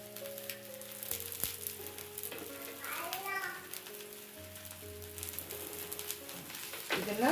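Raw banana slices sizzling in oil on a tawa over low flame, a steady crackling fry running throughout, with children's voices and talk faintly in the background.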